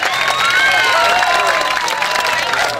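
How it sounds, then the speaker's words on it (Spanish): Loud crowd applause and cheering at a Labor Day ball freestyle show in Buenos Aires, steady throughout with whistles or shouts riding on top and music faintly underneath. "aplauso fuerte para ellos"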